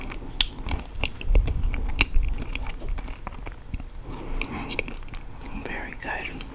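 Oreo cheesecake cookies being bitten and chewed up close, with soft crunchy bites and wet chewing sounds repeating steadily over several seconds, mixed with faint whispering.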